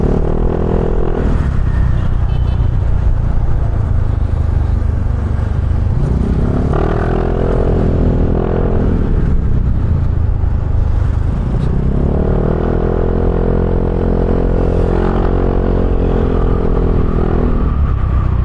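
A Honda Beat scooter rides along a road in loud, continuous engine and road noise with heavy wind rumble, the engine note rising and falling as the throttle opens and eases off.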